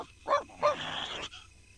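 Dogs in a garden in The Sims 2, two short close barks followed by a longer whining yelp, then quiet.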